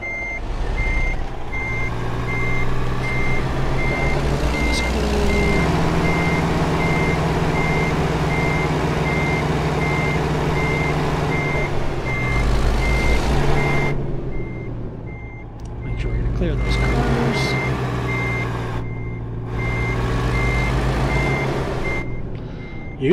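Truck in American Truck Simulator backing up in Minnesota, with a steady loud reversing beeper sounding alone over a constant diesel engine drone for the whole stretch.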